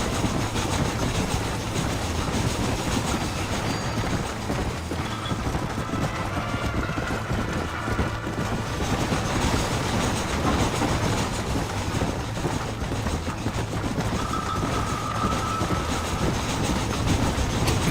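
Train rolling along rails in the Western video game Red Dead Redemption, a steady rumbling clatter of wheels and cars that runs unbroken and fairly loud throughout, with no talk over it.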